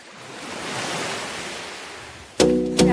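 Sea waves wash steadily onto the shore at Talisayan beach in Misamis Oriental, a broad continuous surf roar; near the end two short voiced bursts cut in.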